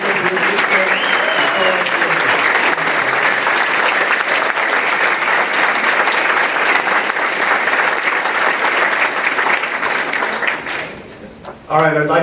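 Audience at a fire academy graduation giving a loud, dense round of applause that holds steady for several seconds before tapering, with a voice speaking as it ends.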